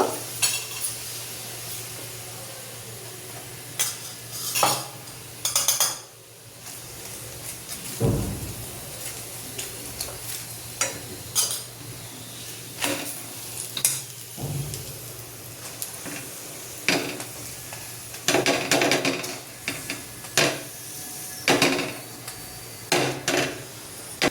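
A spinach paratha cooks in ghee on a pan, a low sizzle under frequent clatters, knocks and scraping of a spatula in irregular bursts, close by, with no talking.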